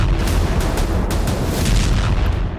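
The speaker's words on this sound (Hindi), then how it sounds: "वायुसेना बमबारी कर रही है" Bombing in the Kursk war zone, a dense rumbling roar of heavy explosions with repeated deep booms, loud and continuous.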